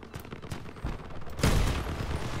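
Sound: cannon firing in the video game Crossout

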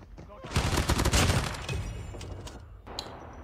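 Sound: gunfire in the video game COD Mobile

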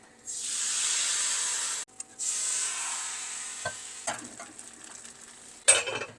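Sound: appam batter sizzling in hot pan

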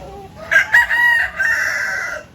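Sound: barred Plymouth Rock rooster crowing

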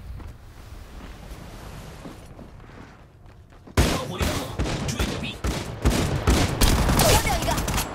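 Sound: missile barrage launched in Apex Legends Mobile video game

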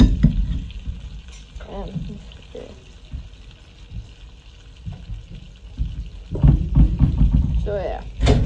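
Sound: butter melting and sizzling in a frying pan

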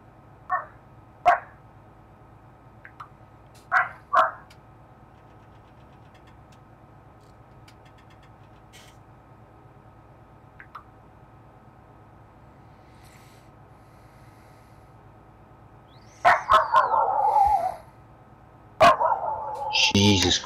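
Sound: dog barking

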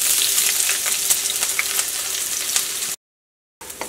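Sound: onions, ginger and green chillies frying in oil

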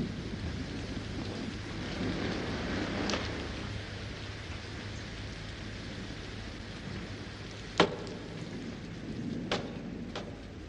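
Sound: wind and rain storm outside

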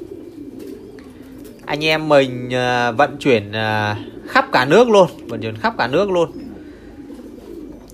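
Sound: Thai Titan pigeons cooing on a farm

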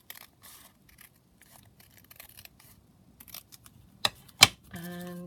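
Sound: scissors cutting a paper envelope

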